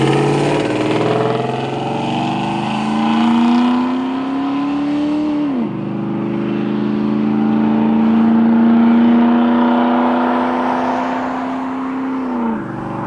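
A car engine, treated with a ring job in a can and feeling lazy in the higher gears, pulls hard as its rising drone climbs, drops sharply at one upshift, then climbs steadily again, loud, close and continuous with no talking.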